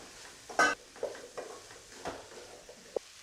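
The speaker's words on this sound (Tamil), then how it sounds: "இப்போ மீடியம் ஃப்ளேம்லைங்க ஒரு ரெண்டு மூணு நிமிஷம் நல்லா வதக்கி விட்டுக்கலாம்" Drumsticks and masala sizzling softly in a pan over medium flame, with a few scraping stirs and light clinks of a spoon against metal.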